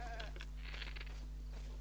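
A goat in Legend of Zelda: Breath of the Wild gives a short, quiet bleat, with brief breathy cries over a steady low background hum from the game.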